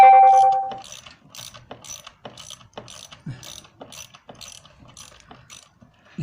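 A ratchet clicks in quick, even bursts while removing a bolt on the intake of a 2005 Jeep Laredo 4.7 V8, with sharp repeated pawl ticks heard up close after a brief mechanical whine at the start.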